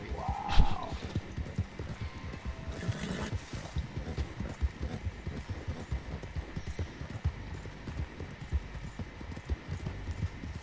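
A horse in Red Dead Online gallops in a steady, rapid thudding rhythm, close and prominent. A brief whinny sounds at the very start.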